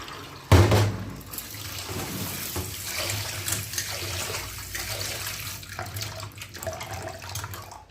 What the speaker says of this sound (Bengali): ডাল ধোয়ার সময় দেখবেন সাবান খানার মতো অনেক ল্যালপেল ল্যালপেল করে বেরোয় এগুলো ভালো করে চটকে চটকে ধুয়ে নিতে হয়